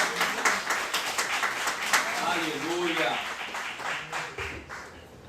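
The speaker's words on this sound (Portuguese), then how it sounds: "Aplauda o Senhor com o seu melhor" A church congregation claps together in praise, a dense steady patter of many hands with a preacher's voice rising over it partway through.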